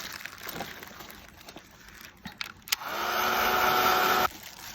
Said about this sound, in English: I'm gonna hit this with a heat gun